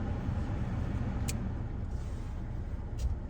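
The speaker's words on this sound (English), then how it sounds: "I have my car on because it's hot outside" A parked car's engine idles on a hot day, a steady low rumble filling the clip from start to finish, with two brief faint ticks partway through.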